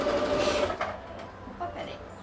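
A small sewing machine stitching a doll's scarf, its brief, close mechanical whir running under a voice before stopping with a slight snag.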